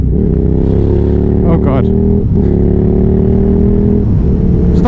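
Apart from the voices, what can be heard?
KTM 990 Superduke R motorcycle accelerating with a pillion passenger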